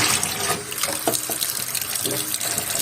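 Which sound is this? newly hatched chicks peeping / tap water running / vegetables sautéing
tap water running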